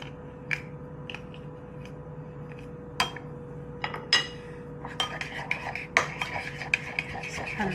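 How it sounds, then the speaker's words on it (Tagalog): A utensil scrapes and knocks against a pot while stirring slow-cooked BBQ ribs, giving scattered metallic clinks and taps over a faint steady hum, loudest near the end. "Haluin lang."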